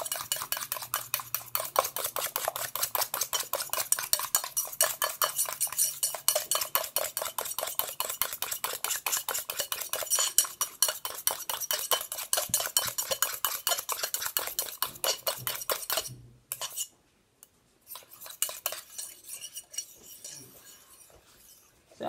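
A spoon or whisk stirs a homemade cosmetic serum in a bowl, giving a rapid, continuous run of light clinking and scraping strokes, close and steady, that pauses briefly near the end before resuming.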